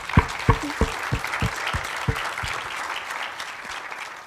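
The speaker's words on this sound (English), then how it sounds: "So let's give them a round of applause, the welcome that they deserve." Applause from a crowd, starting with a few loud distinct claps and settling into steady clapping.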